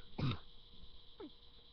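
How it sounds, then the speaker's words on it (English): A short, quiet cough or throat-clear, followed a second later by a fainter second cough, with near silence between. "This is that coughing break."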